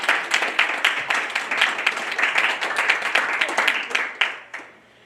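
Audience applause after a Baroque music performance at a winter workshop in a Presbyterian church: dense, steady clapping from a crowd, fairly close, tapering off at the end.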